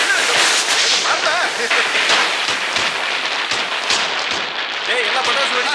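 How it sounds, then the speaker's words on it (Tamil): Firecrackers burst in a rapid string of sharp cracks and pops, loud and close, over a dense crackling wash, while voices call out amid the noise. "ஏய் எல்லாம் பட்டாசு வெடிச்சிட்டு பாத்தீங்களா?"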